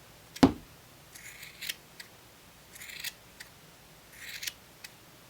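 Scissors trim a yarn pom pom: one sharp snip, then several soft, quick clusters of cutting, quiet and close.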